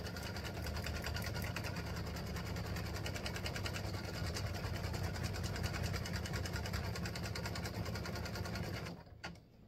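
Sewing machine stitching steadily and close up for about nine seconds, a continuous rapid mechanical whir with fine repetitive ticking, sewing game pieces for a tic-tac-toe board set with yellow thread, then stopping abruptly near the end.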